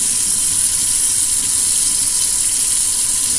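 Running water pours steadily over dyed polyester or nylon fiber during a final rinse at a sink, a constant close hiss of the stream with no talking.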